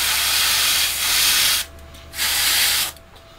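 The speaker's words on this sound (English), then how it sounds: "So we just spray these with the green." Airbrush spraying green paint at high pressure onto model kit wheel hubs for a 1/48 SU-27UB Flanker, two sustained close hissing bursts with a short pause between them.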